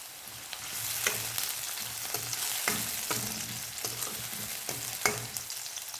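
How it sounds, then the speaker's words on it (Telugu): Chopped onions and curry leaves fry in hot oil with a bright, continuous sizzle close by, punctuated by rhythmic scraping stirs roughly every half second to second. "ఆయిల్ వేడైంది కాబట్టి కట్ చేసిన ఉల్లిపాయలను వేసుకుందాం. అలాగే కరివేపాకు కూడా వేసుకుందాం."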